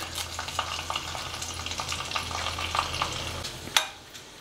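Garlic and dried red chillies sizzle in hot oil on low heat for a tempering, a close steady crackle with scattered pops and one sharper stir clatter near the end, with no talk.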